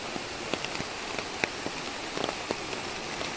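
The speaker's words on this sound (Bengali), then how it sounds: "এখন ভালোই বৃষ্টি হয়ে যাচ্ছে।" Steady rain falls at Sita Waterfall near Ranchi, Jharkhand, a continuous dense patter on surfaces with scattered louder individual drops, close and even throughout, with no voices.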